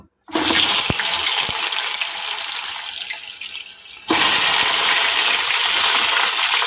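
Eggplant slices go into hot oil and set off a loud, sudden rush of sizzling that eases briefly, then swells again and holds steady.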